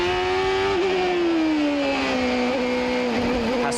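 A 1995 CART race car screams at high revs around Laguna Seca, its engine pitch sliding slowly down as the throttle eases, loud and close throughout.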